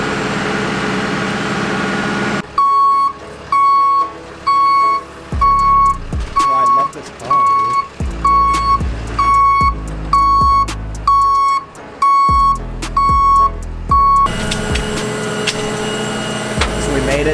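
A tow truck arrives carrying a BMW E30 on its trailer, loud rhythmic reversing beeps over a rumbling idling truck engine, with hydraulic whines in between and people talking nearby.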